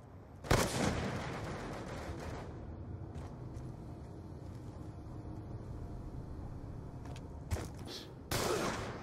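Gunfire in a Call of Duty online match, with a loud burst near the start, a few sharp shots scattered through a steady rumbling game background, and another heavy burst at the end.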